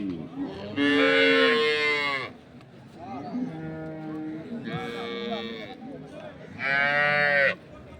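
Dairy cows with calves bellow at a weekly livestock market in Ambari, Dinajpur, giving three long, loud moos separated by pauses while people talk nearby.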